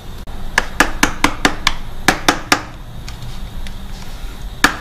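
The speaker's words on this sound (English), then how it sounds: "Usually just use a screwdriver and a hammer and then switch to a punch" A hammer striking a punch to bend lock washer tabs on the rear sprocket of a 2017 BMW S1000RR motorcycle: about a dozen sharp, close metallic taps in a quick, even run, then a pause and one final strike.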